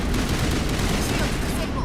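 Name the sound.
gunfire in video game Mass Effect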